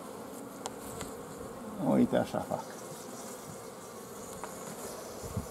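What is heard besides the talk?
honey bee flying around a beehive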